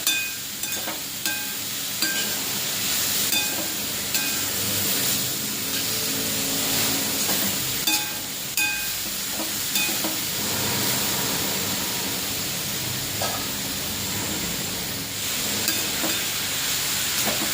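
Grated carrots sautéing in ghee in a pan, a loud continuous sizzle with recurring scrapes and rattles of a spatula stirring throughout.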